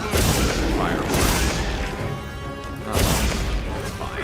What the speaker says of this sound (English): Alright, I put my firework.